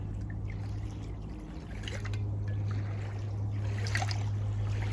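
White rum poured into a cocktail shaker holding ice and fresh lime juice, a steady close liquid trickle running the whole time over a low background hum, with no talking.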